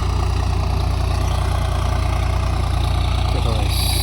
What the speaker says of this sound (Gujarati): ખેતર ખેડાય છે, જેવો ટ્રેક્ટર છે સૌરાજ